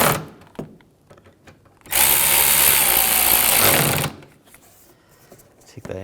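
Power tool driving screws into the front bumper of a 2006-2010 BMW 550i, a loud steady whirring burst of about two seconds between quieter handling clatter.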